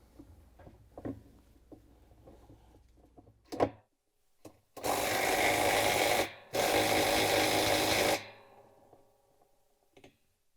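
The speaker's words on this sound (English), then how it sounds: "we can grab the impact driver with the 90 foot-pound torque limiting extension and the 1 5/16" socket to tighten it down" An impact driver with a torque-limiting extension and 1 5/16-inch socket tightens the reverse-thread transmission nut on a GE washing machine, two loud sustained rattling bursts of about one and a half seconds each, after light clicks and handling sounds.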